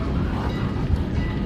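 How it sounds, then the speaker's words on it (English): Steady low rumble of a train rolling on rails at Strasburg, Pennsylvania, a continuous close mechanical drone with no clear clacks. "this is our last stop for this train"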